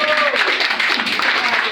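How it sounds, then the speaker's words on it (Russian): Applause fills a Moscow bar concert after a performer leaves the stage, a dense, continuous wash of clapping from the audience with a few voices and cheers mixed in. "Бурные аплодисменты."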